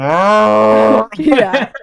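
A human voice imitating a cow's moo as a laugh, one long sustained lowing tone followed by a short choppy burst.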